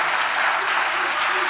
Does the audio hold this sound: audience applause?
yes